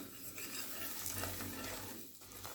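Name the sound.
gram flour (besan) being roasted and stirred in ghee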